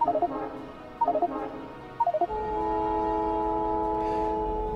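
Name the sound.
trains arriving at stations in video game Factorio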